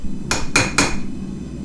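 A hammer strikes steel three times in quick succession while a knife blank is rough shaped, each blow a sharp, ringing metallic clang, close and loud, followed by a low room hum.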